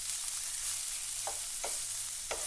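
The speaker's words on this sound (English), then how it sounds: "Little bit of oil, 1 medium-sized red onion, thinly sliced. Fry for about 5 minutes." Thinly sliced medium red onion frying in a little oil in a pan, a steady soft sizzle running throughout with a few brief stirring scrapes, no voices.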